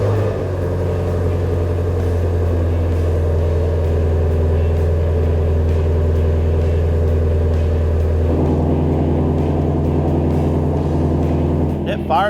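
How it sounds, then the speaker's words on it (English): A Ford Mustang GT350 engine with a fresh tune fires up and settles into a steady, loud idle, with a deep continuous rumble throughout and a shift in tone partway through as the revs drop. "It fires up, settles to a nice idle."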